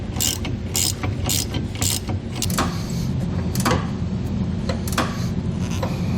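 Wrenching bolts down through fifth wheel frame brackets into a 2021 Chevrolet truck frame while fitting a B&W Companion underbed kit, giving repeated short ratcheting clicks in bursts over steady mechanical background noise.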